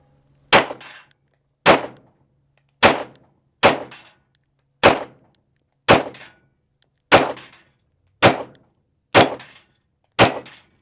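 A Springfield Echelon pistol fires 115 grain Remington range ammo at a steel plate rack, ten sharp, evenly spaced shots ringing out over about ten seconds, each a loud crack with a short metallic decay.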